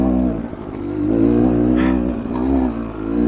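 A Beta Xtrainer dirt bike engine revs close by with a loud, steady buzzing drone that swells and eases over a few seconds. No voices are heard.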